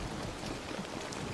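Heavy rain falling steadily on a surface, a dense continuous hiss with no other sounds.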